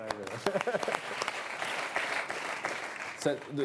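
A studio audience on a French talk show breaks into lively applause, a dense patter of clapping that runs throughout, with a voice speaking over it at moments.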